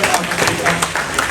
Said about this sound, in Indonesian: waktu tepuk tangan untuk Bapak Kepala Dinas ya